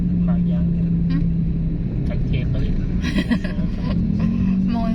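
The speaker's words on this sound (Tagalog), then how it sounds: "Sobrang traffic." Heavy night road traffic between Bulacan and Pampanga, a steady engine rumble with cars and buses passing close, under people talking throughout.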